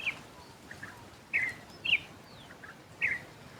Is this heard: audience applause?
no